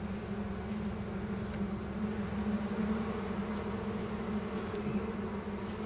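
Honeybees at a horizontal hive give a steady, dense buzz that stays even throughout, close by, with no talk.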